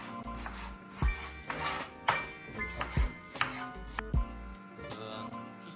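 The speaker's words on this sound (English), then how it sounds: "Just going to nicely slice apples while the apples are cooking over there." A knife slicing apples on a cutting board for a vegan apple crumble, about five crisp, evenly spaced thuds as the blade strikes the board, close, with music playing underneath and no talking.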